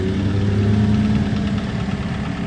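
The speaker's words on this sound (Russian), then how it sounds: "звук точно с мотора, какой-то вот стук" A car engine with a knocking fault runs steadily and loudly up close, a dense low rumble with a faint repetitive tapping inside it and no voices.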